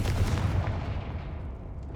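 Confringo fire spell blast in Hogwarts Legacy, a loud booming impact that rolls into a fading rumble over about two seconds.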